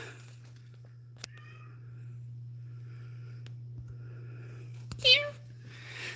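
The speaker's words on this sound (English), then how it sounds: "My cat's been alone for a few days." A cat left alone for a few days lets out a single short meow near the end, faint against a steady low hum and a quiet room, after a few soft knocks.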